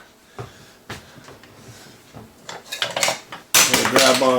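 Frying pan handled on a stovetop over medium heat, scattered metallic clanks and knocks of cookware and utensils building in density, ending in a louder sustained burst of clattering and sizzling.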